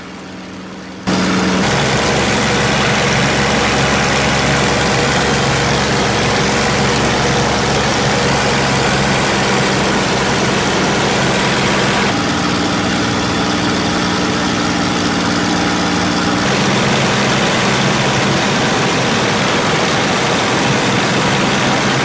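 A P-51 Mustang piston aircraft engine drones loud and steady, heard continuously for over twenty seconds with a slight shift in tone partway through and no voices.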